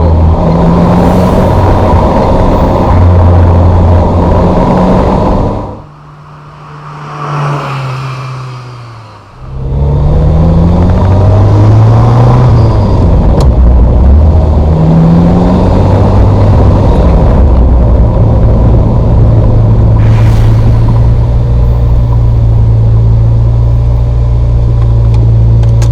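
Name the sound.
Ferrari 348 engine and gear shifts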